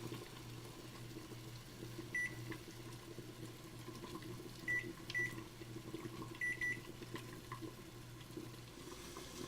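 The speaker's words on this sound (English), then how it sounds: "The timer just went off." A kitchen timer beeps in short, faint pairs during yogurt making, sounding several times over a steady low appliance hum in a quiet kitchen.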